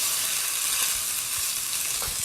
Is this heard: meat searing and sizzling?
yes